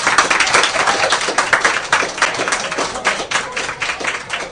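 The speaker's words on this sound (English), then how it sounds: "can we get a round of applause for the Kitchen Bar and for Transitions Radio today?" An audience gives a round of applause at a radio show held at a kitchen bar, dense and energetic clapping that carries on without a break, close and loud.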